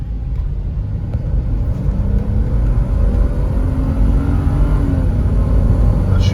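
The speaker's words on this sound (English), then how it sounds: "But I also think I hear a wheel bearing kind of groaning." A worn 2003 Ford Explorer XLT cruises at speed with a steady, loud low rumble, with road and engine drone and a faint underlying wheel-bearing groan from inside the cabin.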